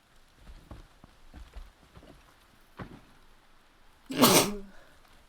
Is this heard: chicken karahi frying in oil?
no